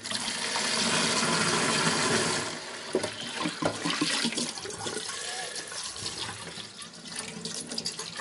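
Water runs steadily from a tap for about two seconds while a container is rinsed out, followed by irregular splashing, sloshing and light clattering close by.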